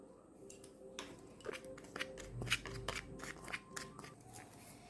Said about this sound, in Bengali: আওয়াজে বুঝতে পারছো কেমন মুচমুচে হয়েছে